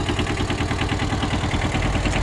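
A small Kubota Bulltra B10 four-wheel-drive compact tractor fitted with a rotary tiller, its engine idling close by with a steady, fast, rhythmic clatter and a low chugging throb throughout.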